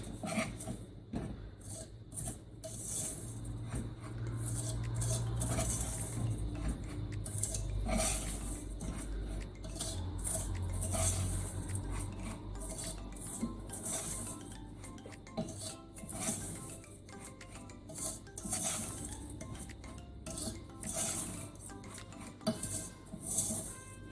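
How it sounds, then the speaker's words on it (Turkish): A spoon scraping and stirring sugar through toasted semolina halva in a metal pot, with steady rasping strokes and clinks of utensil against the pan, close and continuous with no talk. "Bir iki de bu şekilde karıştırıyoruz"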